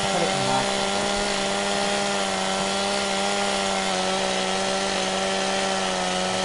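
A chainsaw runs steadily while cutting wood in the Farming Simulator 17 video game, a continuous loud buzzing drone with no pauses and no talking.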